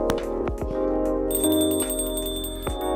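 Phone notification chime in the Coffee Talk video game: a bright, sustained ringing tone starts partway through and holds steady above continuous background game music, with no talking.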